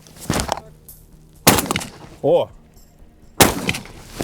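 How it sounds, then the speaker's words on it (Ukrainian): Three sharp, loud shotgun blasts fired at an FPV drone, spaced about a second apart, each with a short decaying tail, and a brief voiced exclamation between the second and third. "Трійка, два постріли."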